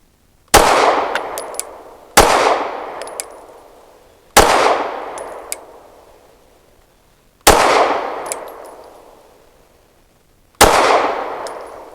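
Five sharp pistol shots from a Rock Island Derya Arms DY9 fired at a target from seven yards, each loud crack ringing out alone with a decaying tail, spaced irregularly about two to three seconds apart.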